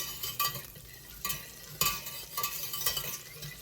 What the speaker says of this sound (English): the butter's browning up nicely